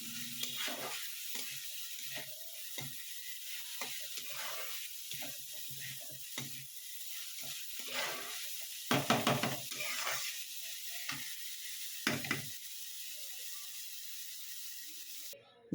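Methi leaves stir-frying with eggplant and potato, a low continuous sizzle under repeated scraping and stirring strokes, with a brief cluster of louder clatters near the end before the sound cuts off.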